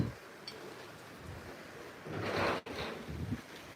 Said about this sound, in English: Gosh, it is really raining, guys.